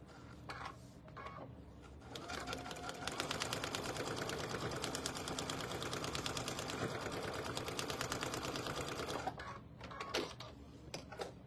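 A sewing machine back stitching on a sampler runs in a fast, even mechanical patter for several seconds, fairly faint and close, with a few small clicks and handling noises before and after.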